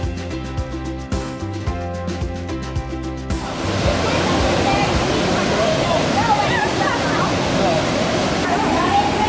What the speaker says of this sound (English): an amazing waterfall just up the river